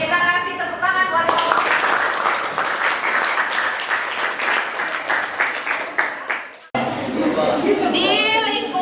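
Classroom applause from students during a teacher's practical teaching assessment, a dense burst of clapping that fills most of the clip alongside children's voices, then breaks off abruptly as a voice takes over.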